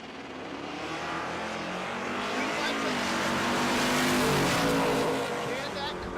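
Camaro and Volvo bracket-final drag race on the strip at Tulsa Raceway Park, with a loud, steady engine roar swelling and fading over about six seconds, mixed with crowd noise and announcer talk.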